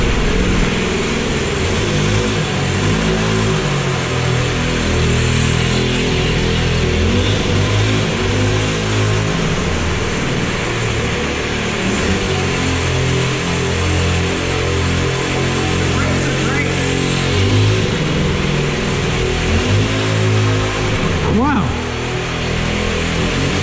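A motorcycle engine runs continuously while its carburetor is tuned, a loud, steady mid-pitched drone with slight rises and falls in revs, voices faintly underneath.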